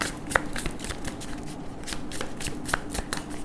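Tarot cards being shuffled by hand, a steady soft riffling patter with a couple of sharper clicks from the cards, close and quiet with no voices.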